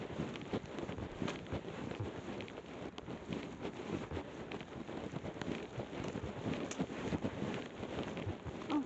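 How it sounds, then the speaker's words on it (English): Rain falls during an outdoor walk near a power station and public park, a faint steady patter and hiss with scattered drop ticks throughout. "it's raining"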